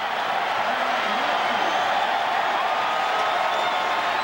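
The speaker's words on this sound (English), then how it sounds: "Crowd's cheering, but we'll wait to get the call." Broadband crowd noise fills a stadium during a 2006 NFL game, Vikings at Packers, a steady loud roar of cheering throughout with faint voices mixed in.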